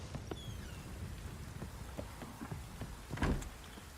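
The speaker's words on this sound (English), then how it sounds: "Started raining at least" Steady rain falls across a game world in The Witcher 3: Wild Hunt, a constant wash of patter with scattered droplet ticks and a louder gust or rumble near the end, without speech.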